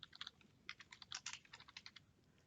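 Someone types a name on a computer keyboard: a steady run of quick, light key clicks in small bursts, close by and fairly quiet, with no talking.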